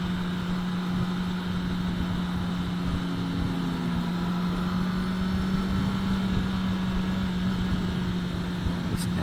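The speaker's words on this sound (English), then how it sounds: "That exhaust sounds terrible." A Kawasaki Ninja ZX10R motorcycle ridden on the road, its exhaust a steady, loud, even drone mixed with wind rush, unbroken throughout.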